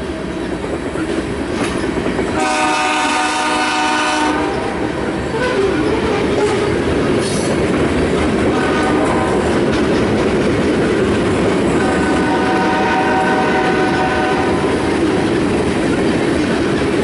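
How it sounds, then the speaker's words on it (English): BNSF ES44AC locomotive leading a grain train with a rear DPU in El Paso sounds a K5HL horn in loud, sustained blasts, two long soundings separated by a pause, over steady rail and wheel rumble. "Man, that horn sounds good."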